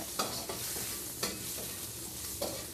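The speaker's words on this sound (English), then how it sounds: "Stir fry a little bit." Shiitake mushrooms stir-fry in a pan over medium-low heat, a quiet steady sizzle broken by several sharp scraping stirs of the spatula at irregular intervals.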